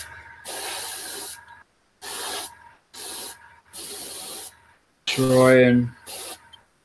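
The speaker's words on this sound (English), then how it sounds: "I'm going to pass some airbrush air just over the face" An airbrush blows air over the freshly painted face of a miniature, in six close, sharp hissing bursts with short silent gaps, while someone speaks briefly during the last bursts.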